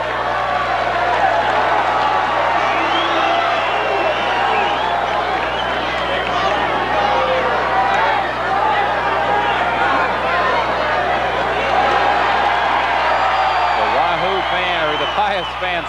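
Fans in a packed arena at a 1989 high school boys basketball state championship, making a sustained roar of cheering and crowd noise while play is held up to clear ice off the court, with a commentator talking over it.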